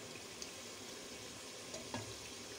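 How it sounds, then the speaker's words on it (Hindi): Paya (goat or lamb trotters) frying in ghee in a pot, a steady soft sizzle running throughout at low level, with a couple of faint stirring clicks and scrapes near the end. "मैं इसको अब कुछ देर के लिए भूनूंगी"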